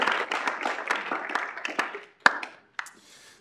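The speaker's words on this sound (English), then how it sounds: "If we could give the KSU Legislative Advocates a round of applause" Brief applause at a student senate session for the KSU Legislative Advocates, a small group clapping for a few seconds and quickly thinning out to scattered final claps.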